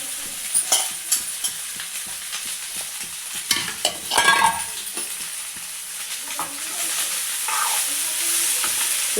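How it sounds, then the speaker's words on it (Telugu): Goat blood pieces fry in hot oil in a pan with ginger and garlic, giving a steady close sizzle broken by clicks and scrapes as a utensil stirs them. "ఈ నూనెలో, ఈ తాల్పులో కొంచెం మంచిగా ఫ్రై చేయాలి దీన్ని"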